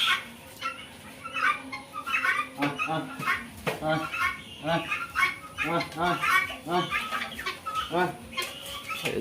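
Farm chickens cluck and call in a busy, close chorus of repeated squawks and clucks with uneven rhythm, while people talk nearby.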